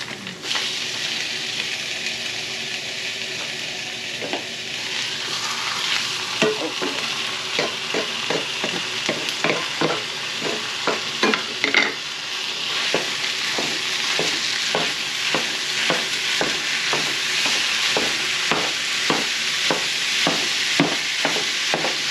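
Hamburger meat hits a hot pan of softened peppers and onion, giving a steady close sizzle and frying hiss, with regular scraping strokes of a spoon stirring and breaking up the meat throughout.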